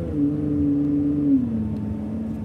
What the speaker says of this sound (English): Driving around very quiet streets, so no problems filming.